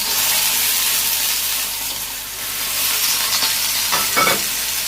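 Okra fries in hot oil in a pan with a loud, constant, close sizzle, and a couple of brief stirring scrapes come near the end.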